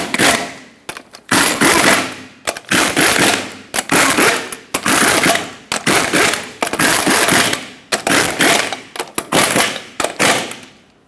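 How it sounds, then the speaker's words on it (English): Lug nuts on a Ford Excursion wheel torqued in a cross pattern, a loud close series of rapid ratcheting bursts, each about a second long, repeating steadily with brief pauses and no talking. "we're going to torque them to 148 foot-pounds"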